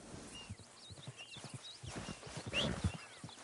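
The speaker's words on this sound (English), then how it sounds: "Damn horse." Hooves clip-clop at an unhurried walking pace in the video game Red Dead Redemption 2, steady and fairly close, with an occasional soft snort from the horse.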